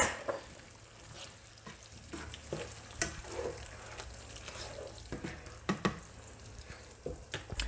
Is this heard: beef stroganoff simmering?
yes